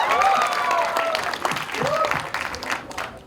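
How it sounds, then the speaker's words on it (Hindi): An audience at a movie teaser launch event applauds loudly, with the clapping continuing for a few seconds. Crowd noise and amplified speech sit over it. "कम ऑन गाइस, जोरदार ताली होनी चाहिए।"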